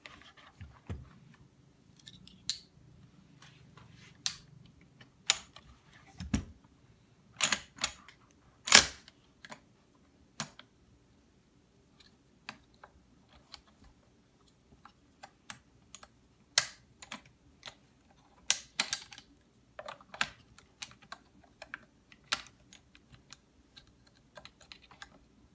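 Sparse metallic clicks of rounds being pressed one at a time into a gun magazine, quiet and close, spaced irregularly with a few sharper snaps and long near-silent gaps, no talk.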